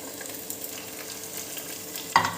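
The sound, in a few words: green chillies and shallots frying in a pan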